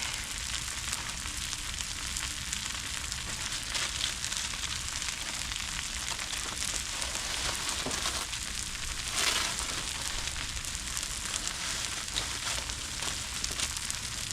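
Butter and buns sizzling on a griddle for patty melts at a backyard cookout: a continuous dense crackling hiss, close and even throughout, with one brief louder flare midway and no speech.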